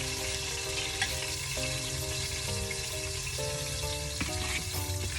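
Mirepoix of onions and other diced vegetables sautés in a pan after short ribs were seared, giving a steady, close sizzle with faint stirring, alone with no talk.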